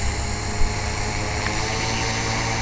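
A 450-size RC helicopter's electric motor spins up through a smooth slow-start speed controller, a loud close whirring drone with rotor buzz holding steady, one brief bump early on.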